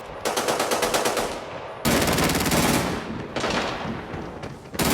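Rapid automatic gunfire rings out in the shooter video game Arena Breakout, with long dense bursts, including an MP5 submachine gun, crackling close and loud with brief gaps between volleys.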